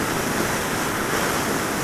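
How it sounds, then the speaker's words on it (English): Strong wind gusts along a road, a continuous loud roaring rush buffeting the microphone with no breaks. "Whoa, it's windy down this road."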